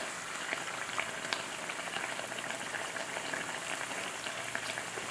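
Fish pie frying in oil in a pan, a quiet continuous bubbling sizzle with faint crackles and pops, steady throughout and heard up close without talk.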